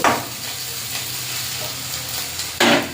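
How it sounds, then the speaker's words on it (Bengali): Spice paste of cumin powder, coriander powder and poppy seeds frying in a pan with a little water, giving a steady close sizzle with stirring scrapes and a louder burst of sizzling near the end. "এবার মশলাটা একটু ভালো করে কষে নেব"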